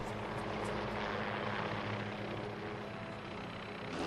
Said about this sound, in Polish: Na przedmieściach opryski będą wykonywane ze śmigłowców